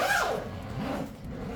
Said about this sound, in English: and take a listen to the zippers here